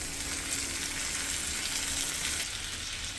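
Moong dal and rice frying in ghee over a low flame for kara pongal, a continuous soft, even sizzle heard close up with no talking.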